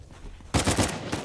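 Rapid automatic gunfire from the game Uncharted 4 erupts suddenly after a short quiet lead-in, a close, loud burst of overlapping shots that rattles on for under a second.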